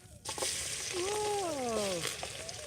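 Garlic sizzling in a hot pan while cooking dinuguang papaya, a steady close frying hiss with a brief clatter at the start and a voice speaking over it.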